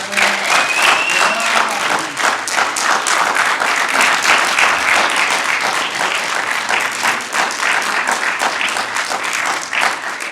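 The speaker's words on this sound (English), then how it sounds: "Y'all give him another hand clap." A church audience gives loud, sustained applause after a man's testimony. The clapping is dense and continuous, with a faint whistle or cheer near the start and an occasional voice mixed into the crowd.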